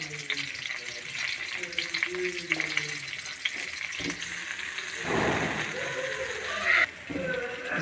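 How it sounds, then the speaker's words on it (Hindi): Butter melts and sizzles in a kadhai with a steady frying hiss and occasional clinks. A voice talks over the first few seconds, and the sizzle then swells on its own. "अभी हमने कढ़ाई के अंदर मक्खन डाला है"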